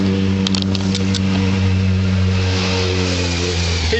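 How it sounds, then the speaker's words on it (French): A motorcycle on a coastal road near Cap d'Ail drones steadily with a strong harmonic engine tone, holding close and loud for several seconds as it passes, with a few faint clicks early on. "J'entends une moto"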